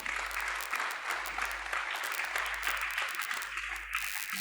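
Conference audience applauding three panel speakers at a French-language technology forum, steady moderately distant clapping that carries on without talk.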